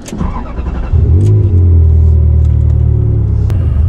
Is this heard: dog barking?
no